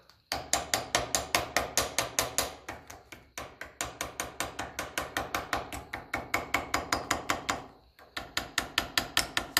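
Rapid, steady hammer taps shape a gasket for the Venturi on a 1954 Ferguson 20 TEF diesel tractor, close and sharp, in quick runs broken by brief pauses.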